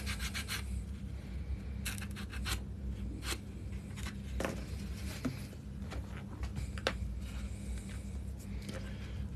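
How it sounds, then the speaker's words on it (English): Stone is sanded rougher by hand, a close continuous rubbing and rasping with short bursts of scraping throughout, no voices. "So I'm just going to sand this a bit rougher."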